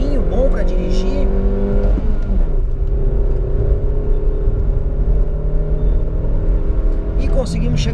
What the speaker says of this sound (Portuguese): eu vou acelerar até 100 km com o ar-condicionado ligado. Vamos ver como é que o Kicks se sai, vamos lá. Acelerando tudo